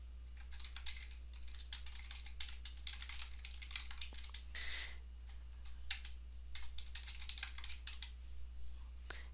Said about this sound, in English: then you just type a message